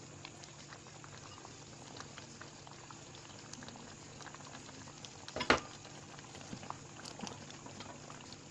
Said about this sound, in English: So I will allow it to simmer for like just a minute.